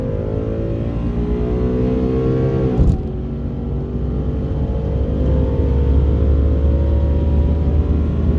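A red 2015 Ford Mustang launches at a drag strip with its tires spinning, the engine note loud and close, rising and holding in a steady roar with a brief dip partway through.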